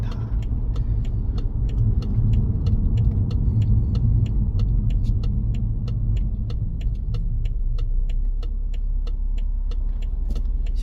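Steady low rumble of a Hyundai car's silky six engine and road noise as it slowly makes a U-turn, with faint regular ticking like a turn signal throughout.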